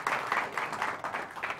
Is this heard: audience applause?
yes